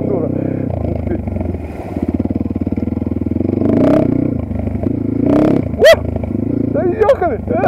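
Geon Dakar GNS300 enduro motorcycle engine revving hard and rough nearby, its throttle blipped repeatedly, with people talking over it throughout.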